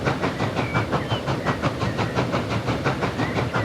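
A steam train in Transport Fever 2 chuffs steadily at a brisk, even rhythm with constant hiss, close and loud, and no voices over it.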